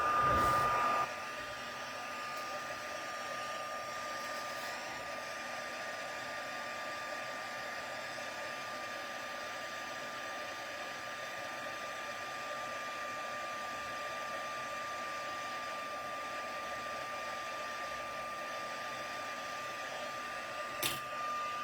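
Heat tool blowing steadily to melt embossing powder on a card, a continuous close whirring hiss with a high tone, louder at the start and running unbroken throughout.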